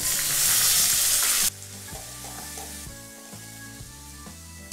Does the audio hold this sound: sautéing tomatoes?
yes